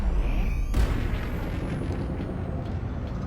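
Eagle spacecraft engine boost in a video game: a sudden loud burst kicks in, followed by a continuous energetic roar with a high whine gliding slowly downward, sounding strained like a coiled spring.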